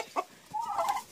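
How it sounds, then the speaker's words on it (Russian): Mini meat-breed chickens give a couple of short, close clucks, followed by a longer throaty call over quiet farmyard background. "вот это куры породы мини-мясная"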